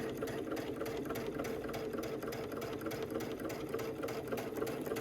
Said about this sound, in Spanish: simplemente vamos a revisar y simplemente coser, y con eso darle más fuerza a tus puntos de margen de costura